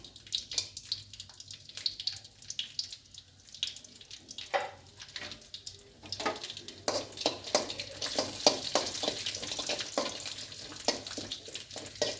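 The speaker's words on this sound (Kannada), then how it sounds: "ತುಪ್ಪ ಹಾಕಾದ್ಮೇಲೆ ಸ್ವಲ್ಪ ದ್ರಾಕ್ಷಿ, ಗೋಡಂಬಿ, ಬಾದಾಮಿ ಹಾಕಿ ಚೆನ್ನಾಗಿ ರೋಸ್ಟ್ ಮಾಡ್ಕೊಳ್ಳೋಣ" Raisins, cashews and almonds roast in ghee in a pan, a soft crackling sizzle broken by spoon scrapes and stirring clatter that grows louder and busier toward the end.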